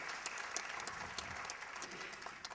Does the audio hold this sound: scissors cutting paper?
no